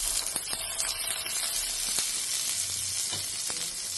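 Butter with garlic sizzling steadily in a hot pan, a loud, continuous crackling hiss with occasional faint clicks of a utensil.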